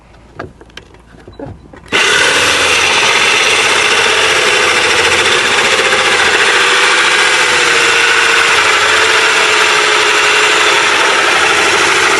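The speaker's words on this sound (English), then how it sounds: "start off with the hole saw, and what I like to do is get that bit in there" After a few faint knocks, a loud power drill fitted with a hole saw starts and runs continuously at a steady high whine, cutting through material while building a bee feeder.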